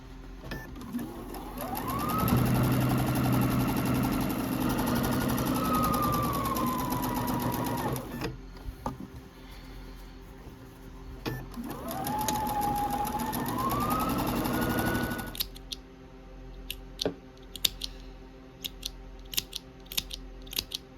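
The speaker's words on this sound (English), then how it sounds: "we're gonna just keep on sewing and get finished" A domestic sewing machine stitches a Grinch quilt in two long runs, its motor whine rising and falling in pitch with speed. Short pauses separate the runs, and a few quiet clicks follow the second.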